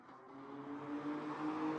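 A BMW M2 passes on the Nürburgring track, a faint distant engine whine rising slightly in pitch and growing a little louder as it goes by.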